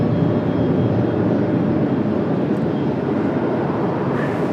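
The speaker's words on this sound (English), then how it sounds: "Our third tri-jet of the day" Tri-jet airliner engines at Washington Dulles airport on a cloudy day, a steady, loud broadband roar that holds level throughout, with no voices.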